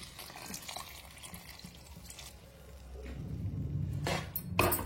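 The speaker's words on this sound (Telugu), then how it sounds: "ఇప్పుడు కొంచెం వాటర్ పోస్తున్నాను నేను" Water pours steadily into a pan of pav bhaji curry, the splashing swelling louder over the last couple of seconds amid faint kitchen clatter.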